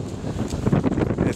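Cold, gusty wind outdoors at a street protest buffets the microphone in a steady, loud rumble with small surges, with no voices over it.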